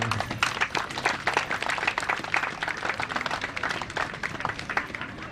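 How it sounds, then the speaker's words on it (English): Crowd applause for an essay contest award recipient at an FSM Independence celebration in Pohnpei, busy and uneven clapping with distinct individual claps standing out. "Please, let's have one more round of applause for Carl."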